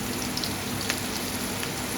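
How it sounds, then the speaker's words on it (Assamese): Onion and whole cumin seeds frying in leftover oil for a fish curry with ridge gourd, a soft, steady sizzle running evenly throughout with faint crackles. "পিঁয়াজ আৰু জিৰা গুড়িকেইটা ভালকৈ অকণ ভাজি লোৱাৰ পিছত"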